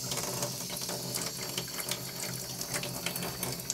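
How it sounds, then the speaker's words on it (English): A faucet runs a small, steady stream of water into a sink during cleanup of laser-engraved brass, a continuous close hiss and splatter with a faint mechanical ticking and no speech. "I'm just going to turn on a little bit of water here."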